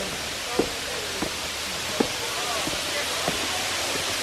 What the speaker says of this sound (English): This is a waterfall. Beauty of nature.